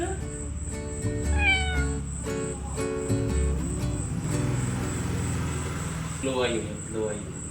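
Three rescued kittens found under a van meow repeatedly in high, rising cries, close by, over a steady high whine and low rumble, with a person talking alongside.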